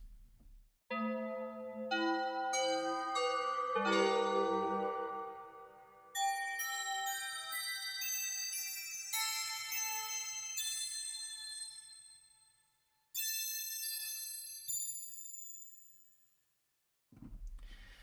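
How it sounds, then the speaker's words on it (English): Synthesized bells ring out in a sequence of bright, sustained tones, each note layering over the last with a shimmering, reverberant decay. "let's hear Kevin's bells"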